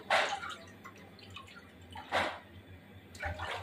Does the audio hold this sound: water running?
yes